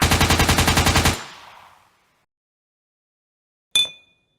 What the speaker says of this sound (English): The sound of gunfire erupts.